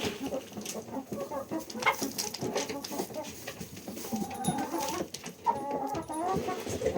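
LaMancha goat farmyard: chickens cluck and chatter nearby in a busy, continuous stream, with scattered higher squawks over general farmyard noise.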